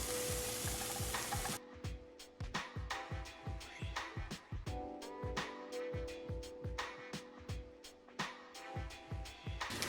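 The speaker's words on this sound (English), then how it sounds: "we're just gonna let that all cook down until you have some nice caramelized apple" Apples cooking down and caramelizing in a pan, with a loud sizzle at first, then a steady run of sharp scraping and stirring strokes over a soft frying hiss, close by and without talk.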